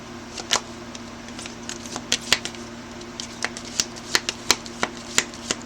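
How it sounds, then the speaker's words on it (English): A deck of cards is shuffled by hand, giving a run of crisp riffling snaps and flicks at an uneven pace, close and clear over quiet room tone with no talk. "sometimes these cards are so hard to shuffle."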